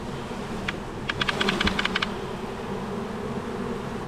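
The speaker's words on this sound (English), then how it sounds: "There's a lot of bees. She could be like just anywhere in here. Now they're starting to fan" Honeybees fanning at an open hive, a continuous low droning buzz close by, with a brief run of sharp clicking taps in the middle.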